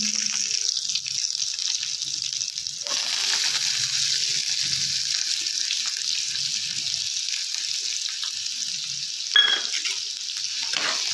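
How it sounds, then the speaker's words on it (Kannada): Chopped onions tossed into hot oil in a pan for a potato gobi manchurian, a bright continuous sizzle after a short quieter start, with stirring noises and a sharp knock near the end. "ಇವಾಗ ಕಟ್ ಮಾಡ್ಕೊಂಡಿರೋ ಈರುಳ್ಳಿ ಹಾಕ್ಕೊಳ್ಳೋಣ."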